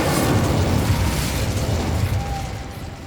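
Incendio fire spell cast in the video game Hogwarts Legacy: a loud, rumbling burst of flame that holds steady for about two seconds and then eases off slightly, with no voices.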